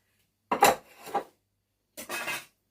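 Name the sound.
scraping excess set lemon ganache off a cake top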